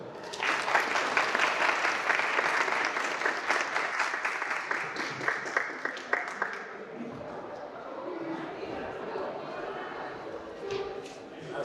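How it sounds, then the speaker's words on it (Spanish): An audience at a talk applauds loudly for several seconds, dense clapping that fades out, followed by a voice speaking Spanish over a quiet room. "Démosle un cordial aplauso."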